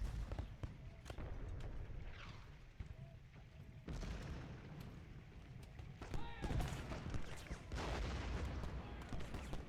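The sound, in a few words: artillery fire in Ultimate General video game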